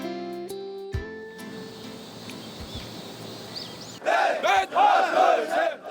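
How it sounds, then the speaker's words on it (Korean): Army trainees shouting a loud morning cheer at a transport training unit, several hoarse group shouts in bursts after an opening of tones and quieter ambience, fairly close and loud. "우렁찬 함성과 함께 기운차게 아침을 시작하는 훈련병들"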